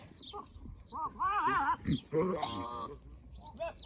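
Goats bleat near a doe pasture during breeding season, several wavering calls close by, some overlapping, with quieter farm background between them.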